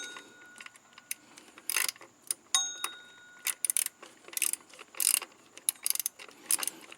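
Bolts on a Honda Accord F22/F23 engine being snugged by hand during a timing belt job, giving quick bursts of ratcheting clicks and metallic ticks separated by short pauses, close up with no voices.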